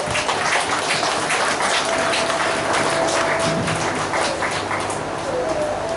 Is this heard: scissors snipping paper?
no